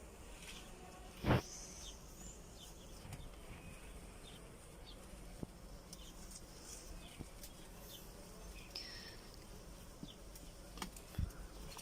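Honeybees buzzing inside an opened ten-frame beehive, a dense steady drone with occasional louder passes of single bees close by, and one sharp knock partway through; no talking.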